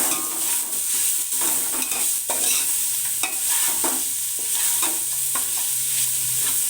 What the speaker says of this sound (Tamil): இப்போ இதில் வந்து தக்காளி, கொத்தமல்லி, புதினா சேர்த்து நல்லா வதக்கி விட்டுக்கலாம்